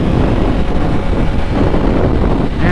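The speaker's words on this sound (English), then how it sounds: "I don't know if you guys can hear that wind, but it's going crazy" Strong wind buffets the microphone while riding a 600cc sport bike, a loud, constant roaring rush with no breaks and no speech.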